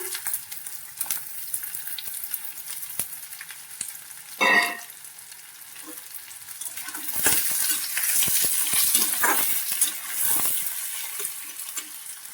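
Onions added to hot oil after garlic sizzle in a pan for patol chop, a bright crackling hiss that swells in the second half, with a brief clatter of a utensil, close and continuous.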